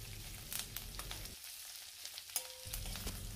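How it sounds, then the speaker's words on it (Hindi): Curry leaves frying in hot oil, a brief crackling sizzle with quick spattering pops, close and moderately quiet, briefly dipping before resuming, with no speech. "जो करी लीव्स है इसे हम ऐसे डालेंगे और इसे अच्छी तरीके से फ्राई करेंगे"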